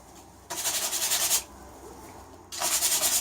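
Two stretches of close, scratchy sanding on the wood of an old carpenter's hand plane being restored, a steady back-and-forth rasp with a quieter pause between strokes.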